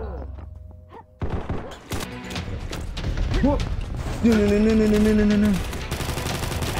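Gunfire in a Call of Duty-style shooter video game comes as sharp, rapid bursts of shots, some of them layered. A voice speaks briefly over the shooting.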